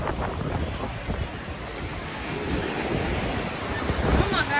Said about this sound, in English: This the fucking ocean.